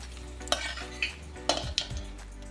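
Metal utensils clink and scrape against a frying pan as fried onions are lifted out during cooking for a rohu fish dish, with a few distinct knocks over a faint sizzle and no talking.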